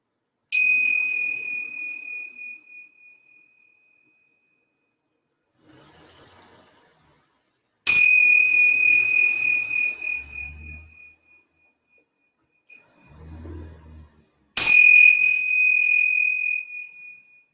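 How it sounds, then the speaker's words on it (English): Bells are struck three times to close a yoga class, each a clear high ding with a long fading ring, spaced several seconds apart in a quiet room. "I'm going to ring the bells 3 times."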